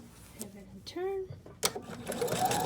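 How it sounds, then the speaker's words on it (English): Sewing machine stitching fabric in short quick bursts, faint and close, mixed with someone talking. "do a fixed stitch, we're done tacking these down."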